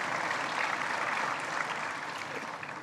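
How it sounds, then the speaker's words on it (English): Audience at an annual alumni meet applauding the team, a steady, dense clapping that fills the room throughout and tapers slightly toward the end. "And a big clap to the even team."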